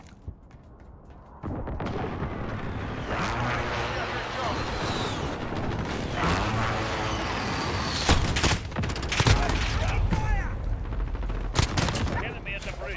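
Gunfire crackles through a war video game battle: dense, continuous bursts of shots and explosions over a steady roar, with sharp louder volleys near the end and voice radio callouts mixed in.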